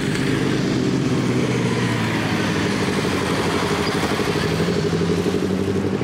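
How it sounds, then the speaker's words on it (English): A group of motorcycles riding in on bike day at Mount Colah between Gosford and Sydney, a steady loud rumble of engines close by throughout. "Bikes coming in now."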